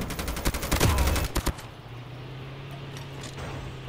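Gunfire in the mobile shooter game Call of Duty Mobile: a quick cluster of sharp shots in the first second and a half, then a steady low engine-like hum, fairly faint overall.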